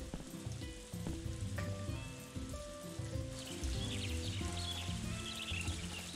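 Rain in the video game Story of Seasons: A Wonderful Life, a soft, steady hiss of falling drops running under louder melodic game music throughout, with no voices.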